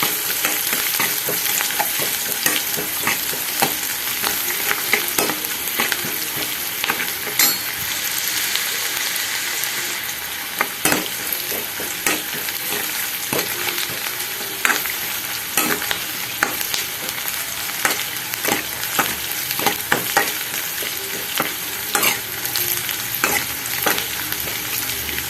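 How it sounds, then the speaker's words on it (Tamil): Ingredients for a tomato tamarind curry stir-fry in a pan toward golden brown, with a loud, constant sizzle broken by frequent sharp spatula scrapes and taps against the metal. "ஸோ நல்லா கோல்டன் ப்ரௌன் ஆகிற வரைக்கும் நல்லா ஃப்ரை பண்ணிக்கோங்க."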